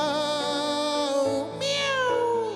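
A voice imitates a cat's meow in a drawn-out, sung tone, two long wavering cries close to the listener, likely within music.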